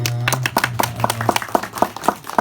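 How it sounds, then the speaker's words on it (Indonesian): An audience claps for Ibu Musrifah at an Islamic religious sermon. The claps are steady and fairly rhythmic, with a low held tone underneath at the start. "Masya Allah, tepuk tangan untuk Ibu Musrifah."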